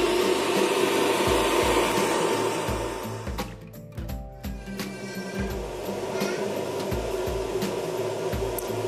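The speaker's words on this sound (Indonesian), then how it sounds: "Akhirnya kipasnya nyala." An electric cooling fan runs with a steady, close whirring drone and a faint rhythmic pulsing, switching on once solar power production climbs past about 400 watts; the hum dips briefly midway, then continues evenly with no talking.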